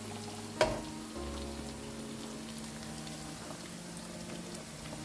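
Onions fry in a pan for chicken pasta, a steady soft sizzle with one sharp clink of a utensil near the start, no voices.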